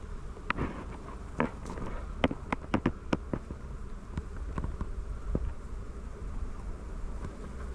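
Bees returning to a hive at an apiary, a faint airy buzz of many insects with scattered sharp clicks and taps nearby, no one speaking.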